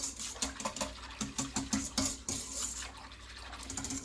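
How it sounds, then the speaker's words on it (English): Yeast is whisked into a bowl of water for French bread, making quick repeated sloshing and tapping strokes in an irregular rhythm, close and moderately soft, with no talking. "And then I'm going to whisk it."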